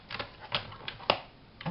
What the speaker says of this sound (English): Let's trim a straight line